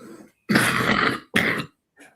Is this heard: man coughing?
yes